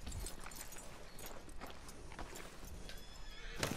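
A horse in the Red Dead Redemption 2 video game neighs and whinnies over clip-clopping hoofbeats, close and moderately loud, with a brief sharper burst at the end.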